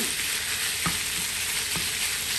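Beef pieces sizzling steadily in a hot pan for a sauté with onions, with two brief scraping knocks of a spatula stirring and separating the meat, close and alone.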